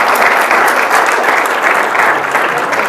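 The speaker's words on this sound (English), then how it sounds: "So one more round of applause for Ben McClintock." Audience applause for Ben McClintock at a 2021 Utah public event, a dense steady clapping from a crowd that holds strong and unbroken for about three seconds.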